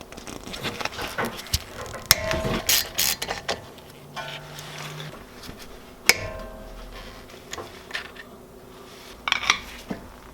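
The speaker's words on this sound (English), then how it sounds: "So the first thing I'm going to do is remove this bolt here on the brake caliper" A ratchet with a 1/2 inch socket works on a brake caliper bolt of a Jeep JK, giving bursts of close clicking ratchet strokes mixed with metallic clanks and handling noise, with no speech.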